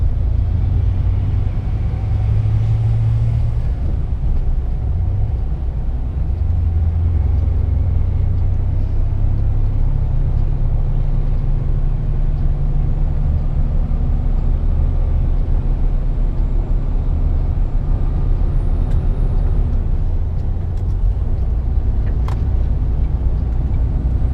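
A heavy truck rumbles along the road close by, with steady low engine and road noise lasting throughout and no voices.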